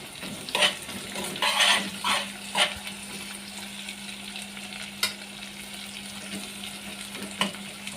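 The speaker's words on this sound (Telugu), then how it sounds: "ఇప్పుడు ఇందులో కరివేపాకు వేసుకుందామండి, కలిపేసుకుందాము" Curry leaves are stirred into onions frying in a pan, producing a continuous crackling sizzle punctuated by several sharp spatula scrapes and stirring knocks.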